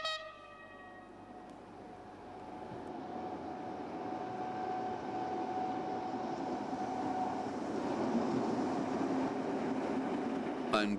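A class 212 diesel locomotive rumbles steadily nearby in Frankenberg station with a long horn-like tone at the start, the engine noise building gradually and continuing throughout.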